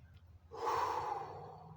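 Slow, deliberate breathing during a guided relaxation exercise: after a quiet start, one long, soft, airy breath swells up and is held steady through the rest, close and fairly faint.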